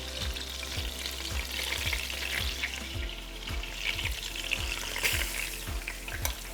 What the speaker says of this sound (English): Let's go ahead and put in our meat, and what we're doing is just browning